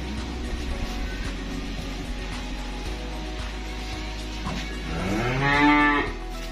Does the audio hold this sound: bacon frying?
no